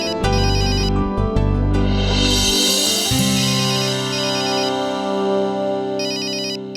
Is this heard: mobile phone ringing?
yes